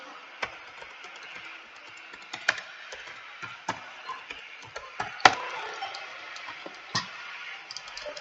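Typing on a computer keyboard nearby, a steady stream of quick plastic key clicks with a few louder taps, continuous and close with no talk.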